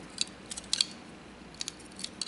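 Plastic pieces of a 2014 Hasbro Transformers Age of Extinction Grimlock Voyager Class toy fold around and snap into place, giving a quick series of crisp, close clicks, with no talk.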